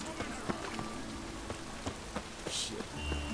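Steady rain falls in The Witcher 3, a dense, close hiss of drops on surfaces with scattered sharper patters throughout and no talk.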